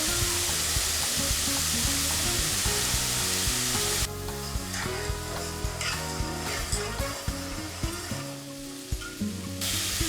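Chicken wings fry in a pan with a loud, close sizzle that crackles steadily, then quiets somewhat and is punctuated by occasional stirring knocks.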